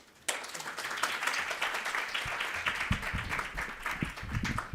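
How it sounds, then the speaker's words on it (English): After a brief quiet moment, conference attendees at a World Heritage Committee side event burst into applause welcoming a speaker, a full crowd of clapping hands that holds steady, with a few thumps and scattered louder claps. "please join me in welcoming the Director Hong with a big round of applause"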